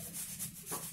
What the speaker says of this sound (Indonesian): Melakukan amplas kering,